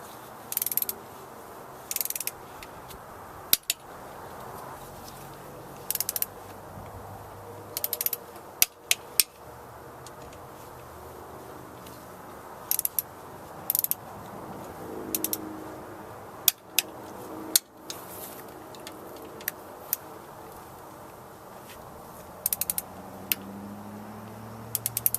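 Torque wrench tightening the throttle body bolts on a Ford Crown Victoria in a crisscross pattern, giving short, close ratcheting bursts and sharp clicks spaced irregularly over a quiet background.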